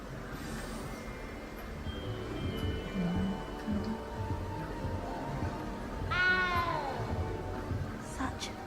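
A cat meows once, loud and close, as a rising-then-falling call over a steady ambient game soundscape set in the Hogwarts castle of Hogwarts Legacy; faint game sounds and distant voices run beneath it.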